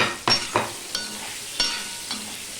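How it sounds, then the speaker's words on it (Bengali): Pointed gourd (potol) fries with turmeric and salt, a soft sizzle under a few sharp scrapes and stirs of a utensil in the pan. "পটলগুলো আমি ভেজে নেব"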